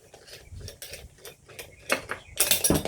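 A Stihl FS 56 RC string trimmer head is unscrewed, producing a close run of rapid mechanical ratcheting clicks that ends in a louder plastic clatter. No one speaks.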